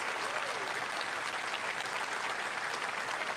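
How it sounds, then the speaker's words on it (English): Audience at PAX West breaks into steady, dense applause, a continuous wash of clapping from a crowd at moderate distance. "definitely deserve a round of applause"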